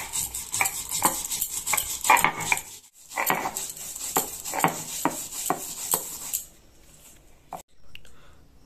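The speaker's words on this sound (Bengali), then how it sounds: "আমি মশলাটা বেটে নেব।" Mustard seeds, poppy seeds and green chillies are ground into a paste with rhythmic scraping and knocking strokes, loud and close, with a short pause partway through and quieter strokes toward the end.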